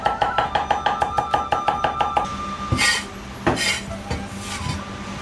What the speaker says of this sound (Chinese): 剁成蒜叶